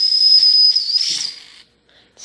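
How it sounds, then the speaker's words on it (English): A steam whistle on a D5 steam engine sounds in one steady, shrill, hissing blast for about a second and a half when the valve is pulled, then cuts off to near silence. "when I pull up this valve, the whistle goes."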